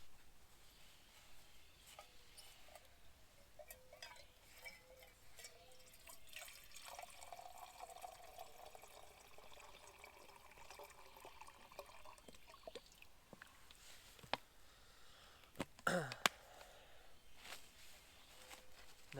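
Water trickles and drips steadily at a backcountry campsite while camp coffee is being prepared on a solo overnight backpacking trip along Dutchman's Creek Trail, faint and continuous with a few brief clinks near the end.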